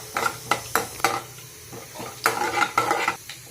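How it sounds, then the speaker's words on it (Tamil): Mustard seeds and chana dal spluttering in hot oil give a series of close, bursting crackles and pops in uneven clusters over a low background sizzle, with a few utensil knocks. "எண்ணெய் சூடானதும் கடுகு கடலப்பருப்பு போட்டுக்கோங்க. கடுகு நல்லா பொரிஞ்சு வரட்டும்."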